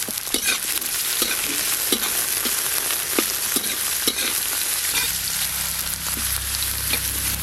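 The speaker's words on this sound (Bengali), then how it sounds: "সাদা তেল, প্রথমে দেব গাজর কুচি, আর দেব বিনস" Chopped carrots and beans fry in white oil over a clay stove, giving a steady, loud hiss punctuated by regular scraping stir strokes close by, with a low rumble joining in the later seconds.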